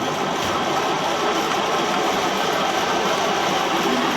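A milling machine running with spindle rotation and feed engaged, a loud steady mechanical whir and hum that holds constant and close throughout.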